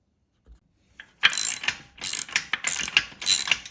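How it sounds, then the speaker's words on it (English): Ratchet wrench snugging a black self-locking nut with a dark blue nylon insert on an Inspire Fitness FT1 bench, a faint tap followed by close, loud bursts of rapid clicking that stop and start in several strokes. "Tightening it in much the same manner, just making it snug."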